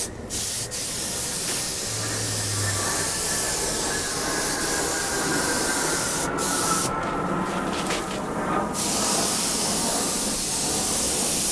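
Clear coat is sprayed onto Suzuki GSX-R 1000 track motorcycle bodywork outdoors as a continuous close hiss from the spray gun, with brief pauses between passes and wind faintly in the background, no talking.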